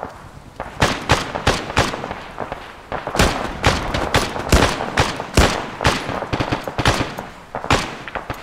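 Dense gunfire in Arma 3, a tactical military shooter, with rapid bursts of automatic fire and single shots overlapping in heavy, continuous exchanges, loud and close throughout.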